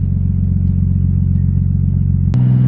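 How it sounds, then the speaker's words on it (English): A Nissan R33 Skyline with an LS V8 swap idles and revs with a deep, loud, steady rumble up close, then the engine note shifts abruptly near the end. "the car is revving"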